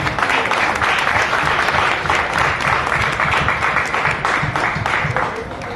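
Loud, dense applause from an audience at a Care Health Insurance meeting at Mira Road, a steady wash of many hands clapping together for nearly six seconds and easing slightly at the end, with no talk over it.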